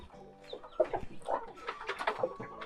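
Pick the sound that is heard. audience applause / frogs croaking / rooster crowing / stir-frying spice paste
rooster crowing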